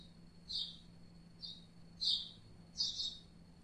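A bird chirping sound effect from a minimalist MIUI 13 phone theme: four short, high, bright chirps, spaced irregularly, stand clearly against near silence at fairly low level.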